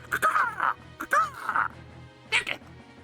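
A man imitates harsh, nasty bird calls with his voice, three squawking quacky bursts separated by short pauses, close and loud.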